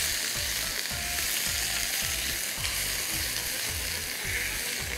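Beef searing and being stir-fried in a hot pan for crispy chili beef, a steady loud sizzle running throughout with regular scraping strokes of a spatula roughly twice per second, close up and with no talk.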